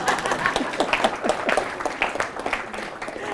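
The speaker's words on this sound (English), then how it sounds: "Oh, you can go ahead and clap for them." An audience at a talk on IT supporting business functions breaks into clapping, loud and close, with distinct individual claps standing out from the steady applause.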